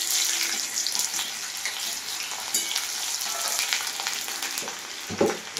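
Chopped onions sizzle steadily in hot oil with bay leaves, a continuous bright frying hiss heard close with a few stirring scrapes and no voices.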